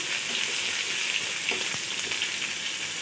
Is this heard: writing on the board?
no